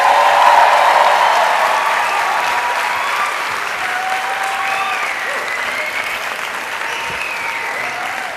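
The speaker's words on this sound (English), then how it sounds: "Hold your claps, you will have plenty to clap about today" Loud, sustained applause from a large audience fills the hall at the 24th annual convocation of the Lahore University of Management Sciences, a dense, steady roar of clapping that slowly eases off.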